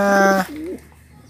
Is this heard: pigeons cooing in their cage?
yes